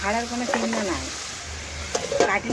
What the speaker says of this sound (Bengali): এটা যত ঢাকা দিয়ে দিয়ে আমি কষতে থাকবো ততই কিন্তু জল বেরোবে আর চিকেনটা ভালোভাবে সেদ্ধ হয়ে যাবে